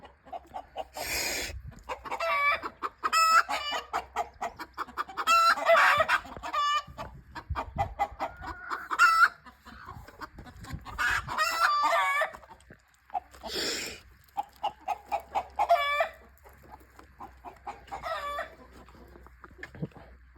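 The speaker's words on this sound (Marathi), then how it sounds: "आता ही कोंबडी एक तीन चार दिवस झाले अंड्यावर बसती आहे" A broody hen sitting on eggs on a farm clucks and croaks repeatedly in irregular bursts, close and fairly loud, with brief pauses between calls.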